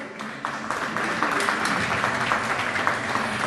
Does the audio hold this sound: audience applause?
yes